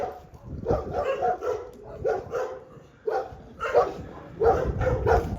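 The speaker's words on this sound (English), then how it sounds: "They're all bark at you at once." Several stray dogs bark together on a street in Punta Arenas, Chile, loud and close, in repeated overlapping bursts with brief pauses between volleys.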